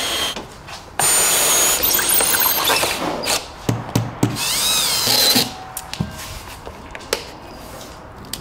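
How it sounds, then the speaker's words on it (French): Power screwdriver driving screws into a terrace door frame, bursts of high whirring alternating with short knocks and clicks, fairly close and loud. "fixe directement avec des vis à fixation directe"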